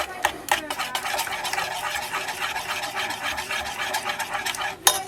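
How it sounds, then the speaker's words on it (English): Close, continuous scraping and stirring of a spoon through banana cake batter as an egg is worked in aboard a narrowboat, with a few sharper knocks against the bowl at the start and end. "Mix our egg in."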